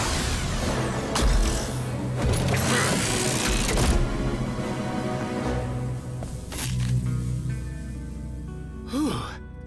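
Cartoon Transformers robot transformation effect from Rescue Bots, a busy stretch of whirring, clicking mechanical gears and ratcheting, with a rising electronic whoosh and chime near the end.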